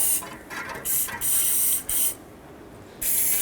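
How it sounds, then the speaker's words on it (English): Several sharp hissing bursts from an aerosol can spraying penetrant on a Toyota RAV4's exhaust manifold bolts, short blasts with pauses between them, close to the microphone and no talking. "I'm going to pre-spray the manifold bolts to the exhaust"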